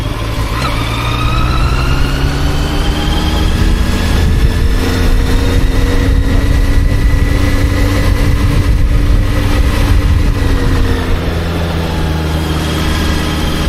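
A VOGE RR660 racing motorcycle engine runs loud and close in third gear, with a strong continuous drone and rising, falling pitch as revs change. No voices.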